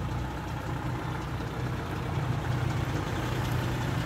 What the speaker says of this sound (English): let me just start up the car for you.